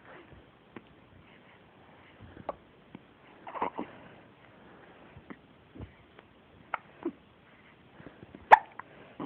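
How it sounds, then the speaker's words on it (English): A baby's hiccups come as a series of brief, soft, scattered bursts, fairly close, over near-silent quiet, with one sharper hiccup toward the end and no talk. "that's enough for your Hiccups."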